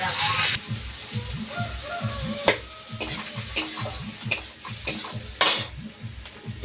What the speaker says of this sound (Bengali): তেলটা গরম হয়ে গিয়েছে এবার পেঁয়াজ দিয়ে দেবো